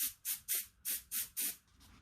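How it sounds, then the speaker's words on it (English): Six short hissing test bursts of a spray gun, evenly spaced and close, each a quick blast of air-driven mist with brief silences between. "I'll do a test spray."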